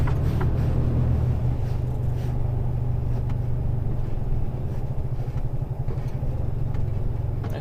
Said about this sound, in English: This truck seems to be driving okay now, doesn't seem to be having an issue.